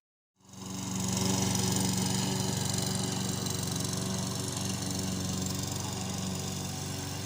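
A lawn mower engine runs steadily and loudly after starting up, a continuous droning hum with no talking.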